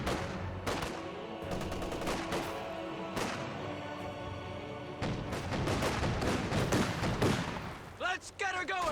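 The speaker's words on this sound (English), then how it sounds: "Grenadiers firing away." Volksgrenadier rifle and small-arms fire from the Company of Heroes 2 battlefield, a dense run of sharp shots and bursts layered over one another with a few heavier booms, steady and fairly loud throughout.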